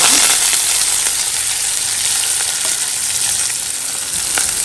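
Sliced onions and curry leaves fry in hot oil for an egg gravy, a loud, dense and continuous sizzling hiss close by, with faint scraping from stirring and no voices.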